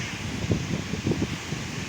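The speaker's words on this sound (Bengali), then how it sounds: "এখন শুধু বাতাস" Steady wind blows at a pond bank on a rainy day once the rain has eased, a continuous broadband rush with a low rumble and soft rustling swells, fairly close, with no voices.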